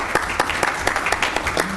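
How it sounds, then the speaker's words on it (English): An audience at a Board of Education meeting applauds, a dense, steady wash of many hands clapping with a few louder individual claps standing out, fairly close and unbroken throughout. "We should all applaud each other"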